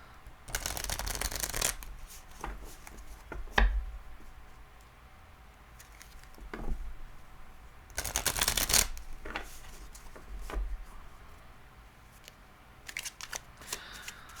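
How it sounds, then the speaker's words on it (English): Tarot cards are shuffled in several quick riffling bursts, with soft taps and sliding sounds between them, close and fairly quiet. "2 shuffles and a sort."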